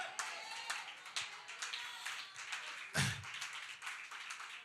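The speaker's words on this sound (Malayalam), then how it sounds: "കുറച്ച് പേര് കൈയടിച്ചു." A few audience members clap during a church prayer meeting in Kozhencherry, giving sparse, uneven handclaps and taps that are fairly faint, with a louder thump partway through and a voice speaking at times.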